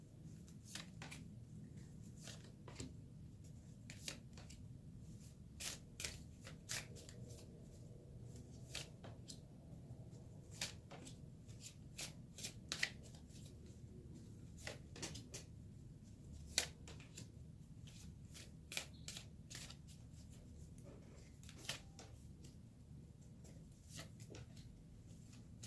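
Illuminated Tarot cards being shuffled by hand, a long run of quick, faint papery riffles and snaps spread across the whole stretch, close by with no talking.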